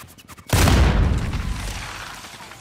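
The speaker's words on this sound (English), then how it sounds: "Ah, so I'm getting shot from the side, Dan." Gunfire in the video game Call of Duty Warzone: a single loud, booming shot that hits hard and then decays over about two seconds, with no talking.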